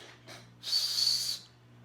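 A single breathy, high-pitched whistle blown for under a second, faint and airy, preceded by a softer puff of breath.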